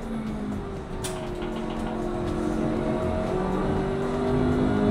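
Simulated Toyota BRZ engine in a racing simulator driven with trail braking, a steady mid-pitched drone with shifting revs that swells slightly louder toward the end, with no talk.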